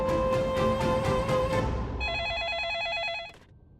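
A telephone rings insistently in a Hindi TV drama scene, first a string of rapid bell-like pulses, then a warbling electronic trill that stops abruptly just before the end; loud and close, with no voices.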